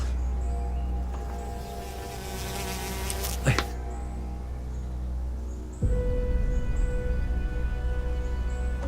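A mosquito buzzes close by in a quiet room, a thin whining drone that rises and shifts as it moves, with a sharp sweeping tone and a low background hum.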